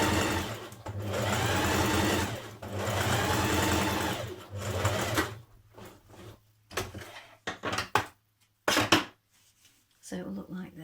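Sewing machine running steadily as it stitches down the lining of a coat pocket, made from a Simplicity 1254 coat pattern. Loud continuous whirring for about five seconds, then short stop-start bursts of stitching with pauses between.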